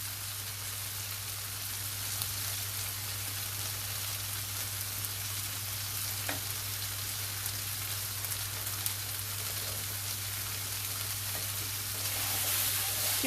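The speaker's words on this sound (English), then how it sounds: "Give that another stir so they're beginning to catch now." Turkish-style chicken and rice fries in a pan with a steady, close sizzle and faint scraping from stirring, under a low constant hum and no talking.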